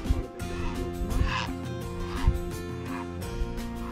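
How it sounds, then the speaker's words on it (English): Geese honk and cackle repeatedly over a low, humming background at a carp fishery, their calls overlapping in an uneven, noisy chorus. "It's a geese, it's a geese."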